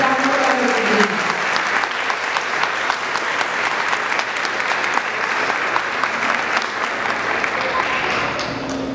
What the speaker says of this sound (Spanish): Y con un fuerte aplauso para recibir.